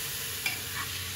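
Rice added to a pot of hot oil with fried dried chillies, a soft sizzle and brief stirring scrape, faint and close.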